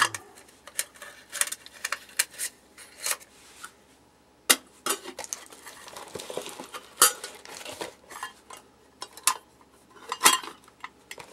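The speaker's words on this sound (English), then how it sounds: "if you're using the alcohol stoves, all you have to do is fold everything up, put it inside" Alcohol stove parts are folded up and packed into a cooking pot, giving close, irregular metallic clinks, taps and rattles in scattered bursts, some louder clanks in between, and no speech.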